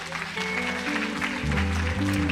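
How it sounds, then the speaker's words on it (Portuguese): Congregation applauding during an evening Pentecostal church service, clapping spread under sustained organ or keyboard chords and a hum of voices, moderately loud and continuous. "Você pode aplaudir ao Senhor."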